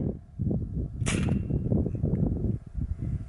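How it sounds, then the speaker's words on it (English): .25 caliber air gun fires a single sharp shot about a second in, a short crisp pop standing out against a steady low rumble of background noise. "Safety forward means fire."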